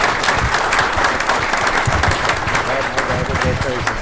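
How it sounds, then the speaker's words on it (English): At a school district event, the audience applauds a student from a programming club, loud sustained crowd clapping with voices murmuring underneath. "Let's give Camden a round of applause."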